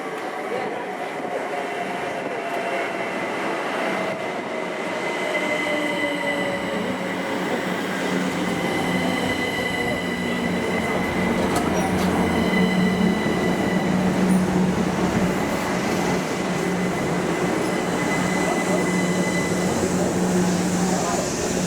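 A train rumbles steadily close by as it passes through Welwyn Garden City station on the East Coast Main Line, its wheels droning and squealing faintly on the rails at length, with voices faint underneath.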